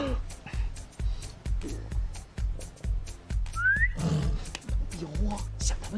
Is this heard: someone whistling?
yes